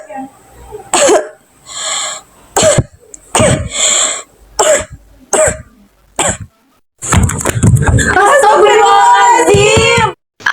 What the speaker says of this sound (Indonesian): menyeruak suara batuk-batuk.